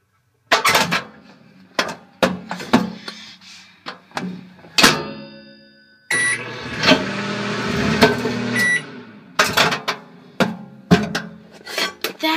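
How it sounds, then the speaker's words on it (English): A microwave oven warming a bowl of soup hums for a few seconds, with electronic beeps near its start and end. Sharp knocks and clunks, like a door and dishes handled close by, come before and after. "I should probably warm it up in the microwave."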